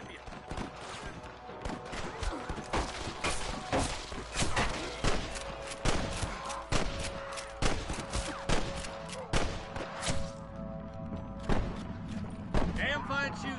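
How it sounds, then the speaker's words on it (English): Gunfire in Red Dead Redemption, a Western video game: a long run of sharp, loud shots cracking at irregular intervals, some in quick bursts, alongside game sounds. "I can hear more gunshots."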